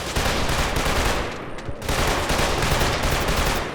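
Sustained automatic gunfire rattles through a firefight in Killzone 2, loud and dense bursts of rapid shots with a brief lull midway, no voices.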